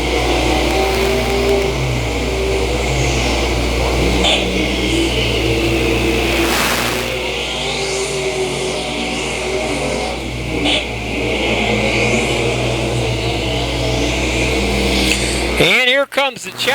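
E-Modified race cars roar through a dirt-track heat race at Valley Speedway, a loud continuous engine drone with passing surges and revving, heard close and unbroken for the whole stretch.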